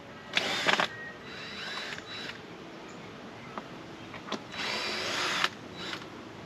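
A power drill unscrews the lid of a bee swarm trap outdoors. It makes several short whirring bursts and one longer run near the end, fairly faint, with no voices.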